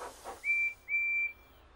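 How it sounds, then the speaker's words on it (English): Two sustained, bright whistle blasts from a cartoon steam engine, the small green tank engine in Thomas & Friends, heard from a tunnel, sounding alone at moderate volume after a faint breathy lead-in. "Thomas listens to Percy's whistle."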